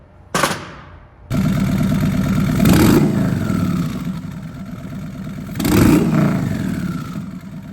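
A turbocharged custom Harley motorcycle engine cranks and catches, then settles into a loud, close, steady idle broken by two strong revving swells.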